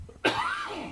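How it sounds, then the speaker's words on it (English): One sharp, close cough with a raspy, throaty tail, heard alone in a quiet room. "Do you want me to wait till you're done coughing?"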